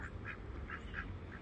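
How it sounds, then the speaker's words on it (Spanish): Faint duck quacks repeat several times at a distance over a low background rumble. "Mira, si hay patos, mira. Mira el patito allá."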